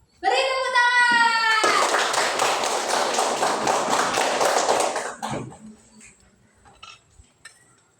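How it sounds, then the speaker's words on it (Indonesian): Children applauding in a classroom: a voice rings out briefly, then a dense burst of many small hands clapping in a fast, rhythmic patter for roughly three and a half seconds before fading to scattered noises. "Ayo, tunjuk tangan ya, Mbak Afi maju. Beri tepuk tangan."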